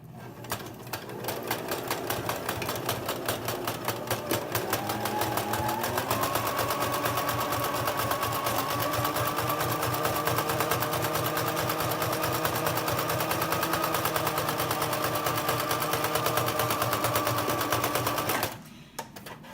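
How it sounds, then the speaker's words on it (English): A sewing machine zigzag-stitches along elastic, a loud close rapid mechanical rattle running steadily for most of the span with a slight change in pitch midway, then stopping near the end. "And of course I'm doing the little couple of back stitches to secure the thread."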